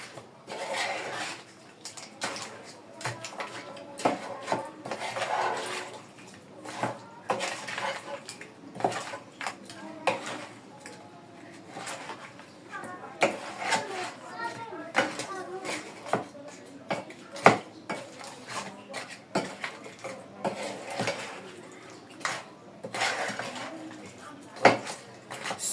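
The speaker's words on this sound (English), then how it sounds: "I'm going to stir very well" Repeated scraping and clinking of a spoon stirring nkwobi, a spiced goat-meat mixture, in a pot, in irregular bursts at close range with some background movement.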